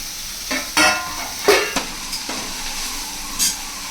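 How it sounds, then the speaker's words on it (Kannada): Momo filling sizzles steadily in a hot pan while a spatula scrapes and stirs it in several close, distinct strokes over a constant frying hiss. "ಚೆನ್ನಾಗಿ ಫ್ರೈ ಮಾಡ್ಕೋಬೇಕು"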